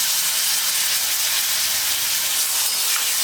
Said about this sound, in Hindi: तो अब मैं इसमें टमाटर डाल दूंगी